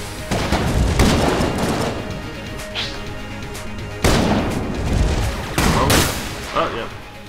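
Dense, rapid gunfire and booming shots during the Bullet King boss fight in Enter the Gungeon, loud and layered, with sharp bursts clustering around a few moments.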